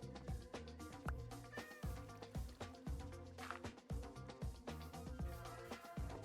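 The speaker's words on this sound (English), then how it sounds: "there's a cat up here and I don't have any fish" A cat in the Minecraft video game meows repeatedly in short, clear calls over a rhythmic musical background, with no talking.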